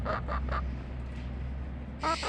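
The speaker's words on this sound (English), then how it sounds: "The birds are mad that I'm still out here." Backyard birds call angrily in a quick run of three honking squawks, a pause filled with low outdoor rumble, then a louder burst of calls near the end.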